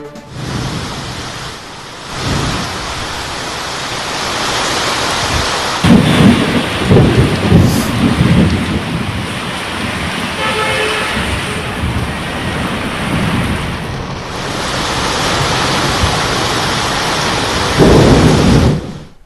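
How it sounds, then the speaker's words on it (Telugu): Heavy rain pours steadily across Hyderabad as a loud, dense hiss, broken by rolling rumbles of thunder that swell in the middle and again near the end. "హైదరాబాద్ లో పలు ప్రాంతాల్లో భారీ వర్షం కురుస్తోంది."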